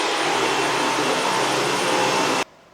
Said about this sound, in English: when I push it in, it will activate or turn on the vacuum